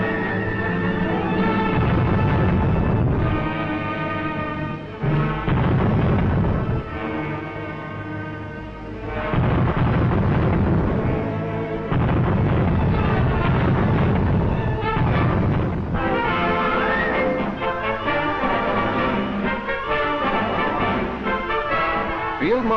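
Anti-aircraft guns fire in wartime, heard as loud, heavy booms and bursts that repeat with short gaps, over a dense, continuous newsreel soundtrack.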